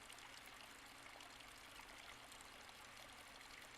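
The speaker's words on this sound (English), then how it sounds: "I hear faint sounds of splashing" Faint splashing, running water sounds from behind a closed door in a video game, a soft, continuous muffled trickle and gush at low volume with no other sounds.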